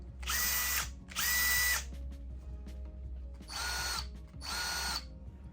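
A Makita cordless drill revs in four bursts, two quick on-off runs followed by two more after a quiet pause, each a loud, high whine close by, with no one talking.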